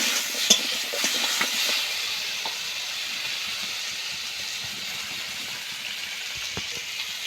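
Taro being stirred in a hot pan during home cooking: a steady sizzling hiss with faint scraping and light clinks from the spoon, close and even throughout, with no talking.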